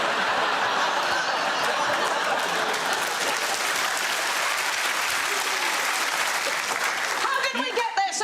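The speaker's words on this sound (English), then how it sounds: "I just don't understand the applause of recognition from a member of the audience." Applause rises from a television studio audience on a comedy quiz panel show, a sustained, dense roar of clapping mixed with chuckles and laughter, fading slightly near the end.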